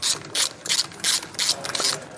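A ratchet fitted with a 9/16 socket loosens the brake assembly bolts on a fifth-wheel trailer disc brake, giving loud, close, rapid pawl clicking in repeated bursts with no talk.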